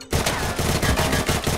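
Rapid burst of gunfire aimed at a zombie in a film scene, loud and close, a dense volley of overlapping shots with no talking.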